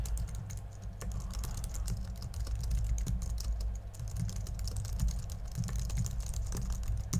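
Steady, continuous typing on a Mac keyboard, with close, rapid key clicks at an even pace throughout and no speech over it.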